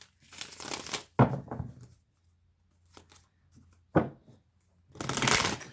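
Tarot cards being shuffled in several crisp, riffling bursts, with short pauses and a few soft taps between them, close and fairly quiet.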